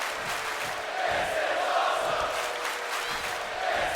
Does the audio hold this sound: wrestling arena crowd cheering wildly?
yes